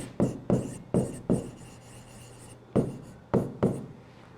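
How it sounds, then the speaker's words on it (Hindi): Pen scratching across a ledger page in a Hindi bookkeeping lesson, making short rubbing strokes in quick bursts, a cluster of four, a pause, then three more, close and fairly quiet with no talk. "तो हम यहाँ लिख देंगे टू सेल"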